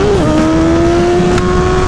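A Honda CBR1000RR Fireblade sports motorcycle is ridden on a public street, its engine a loud, steady, close drone with a slight pitch dip early on, no talking.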